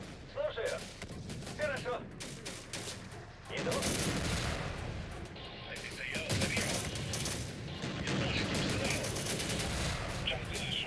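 Dense bursts of gunfire and heavy booming artillery explosions from the urban battle game Syrian Warfare, continuous and chaotic, with a voice talking now and then underneath.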